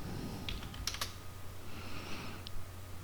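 A few quiet keystrokes on a computer keyboard while entering an AutoCAD command, short soft clicks clustered near the start with one last tap later, over steady low room hum.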